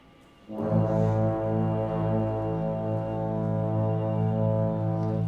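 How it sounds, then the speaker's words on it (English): A deep foghorn blasts after a brief quiet moment and holds one loud, steady, droning tone without pause. "It's just as well as the foghorn keeps him awake."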